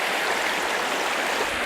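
Turbulent white water of a stream in Gleann Dubh, the Black Glen, rushes in a loud, steady broadband roar close by, with no voices over it.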